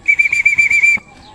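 Racing pigeons flap in from a training toss with a quick run of fluttering wingbeats and a shrill chirping tone, which stops abruptly, leaving faint background sound.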